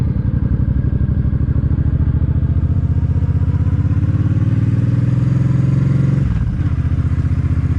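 A Suzuki M50 motorcycle with shaft drive runs steadily up close, its engine droning and rising slightly in pitch before a brief dip, then settling back into a steady rumble.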